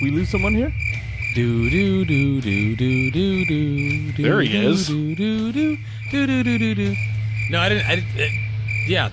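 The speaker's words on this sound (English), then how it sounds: "there you go. Crickets." A soundboard plays a crickets-chirping effect: a steady, high, continuous chirr running through the whole stretch while people talk and hum a melody over it.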